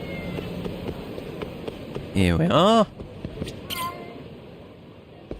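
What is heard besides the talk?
cat meowing in the video game Lost Judgment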